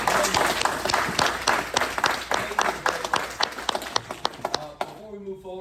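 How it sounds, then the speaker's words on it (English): Audience applause at a Black Collar ceremony: a crowd claps steadily and fairly close for about five seconds, then the clapping thins out and stops. "Can we just give a gigantic round of applause?"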